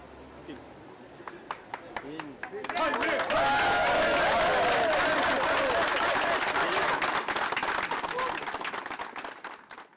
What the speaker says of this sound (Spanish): fue recibido con aplausos en su primer día de trabajo